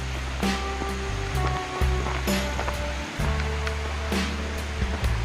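Water pours over a dam spillway in a continuous close, heavy rush, with scattered thumps and knocks laid over the steady roar and no voices.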